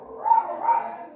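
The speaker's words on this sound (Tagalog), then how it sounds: "Yung aso narinig ko" A single short dog bark or yip, close and fairly loud, heard alone.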